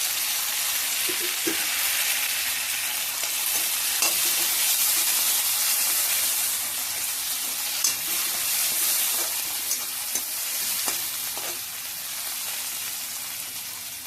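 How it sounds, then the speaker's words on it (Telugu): Onions and chopped tomatoes sizzle loudly in a pan as they are stirred, a dense continuous frying hiss broken by occasional scrapes and knocks of the spoon. "ఎర్రగడ్డలు కొంచెం ఫ్రై అయిన తర్వాత కట్ చేసిన టమాటా వేసుకోవాలి."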